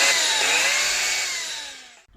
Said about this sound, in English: Can the Honda E power a chainsaw?